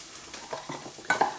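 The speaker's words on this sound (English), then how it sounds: "We want the onions to caramelise, not to burn." Onions frying in a pan, with soft sizzling and a few quick stirring scrapes and clinks, brief and fairly quiet, ending in two sharper utensil knocks.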